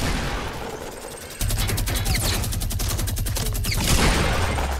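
Machine gun turret in Fortnite firing a fast, steady stream of loud shots for a few seconds, starting abruptly and close amid battle noise.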